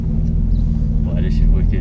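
A Nissan Skyline engine rumbles steadily as the car pulls away, a low continuous drone heard from inside the cabin with faint voices in the background.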